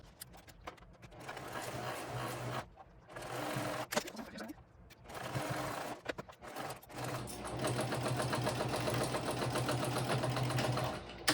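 A sewing machine stitches down the side seams of a backpack panel, running in steady whirring bursts with short pauses between them and a long continuous run at the end, close and fairly loud.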